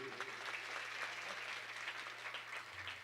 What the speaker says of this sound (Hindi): इनके लिए एक बार जोरदार ताली बजा दीजिए भाई।